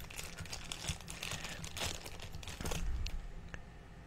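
A foil Guardians of the Galaxy 2 mystery bag is torn and crinkled open by hand, close and busy with sharp crackles and rips over a few seconds.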